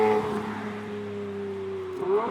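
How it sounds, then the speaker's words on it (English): Lamborghini Murcielago LP670-4 SV V12 engine howling steadily from inside the cabin, a sustained droning tone that swells slightly at the end, close and fairly loud with no talking. "that howl from the engine"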